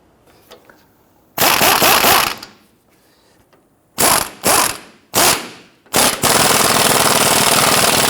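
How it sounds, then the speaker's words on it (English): Impact wrench bursts tightening sway bar bushing bracket bolts on a 2005-2021 Nissan Frontier: several loud rattling ratchet runs, one long, then three short back-to-back, ending in a sustained run, close and with no talk. "Now that we have all 4 bolts started, let's go ahead and tighten them down."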